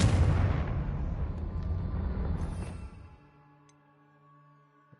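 A Confringo blasting spell goes off in Hogwarts Legacy as one loud, broad explosion that rumbles and crackles for about three seconds, then decays into quieter tonal game sounds.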